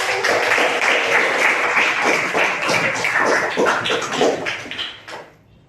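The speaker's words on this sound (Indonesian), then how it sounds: "Betul sekali, tepuk tangan." Students in a classroom clap together in a brisk burst of applause that holds steady, then thins out and fades to quiet near the end.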